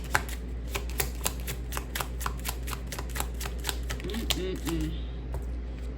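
Tarot cards are shuffled and dealt during a card reading, giving a steady run of crisp riffling snaps and light flicks at close range, with faint background sound throughout.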